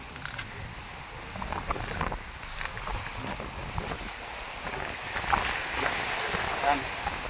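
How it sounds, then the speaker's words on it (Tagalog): Amihan wind blowing at sea beside a small fishing boat off Palawan, a continuous gusty roar buffeting the microphone, with water sloshing and faint creaks from the boat and no pauses. "Yung inyong maririnig sa ugong ng hangin"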